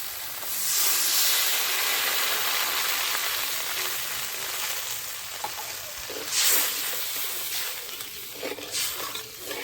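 Water hits a hot pan of telapoya fish in mustard paste curry, releasing a loud, sustained hiss of steam with bubbling surges that swell and fade.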